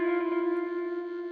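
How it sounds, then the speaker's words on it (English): Ambient electric guitar processed with heavy gain sustains a single steady, droning tone with bright overtones, a faint constant hiss running beneath it throughout. "That's been quite processed with gain, so you can hear that, you can hear the hiss coming through on that."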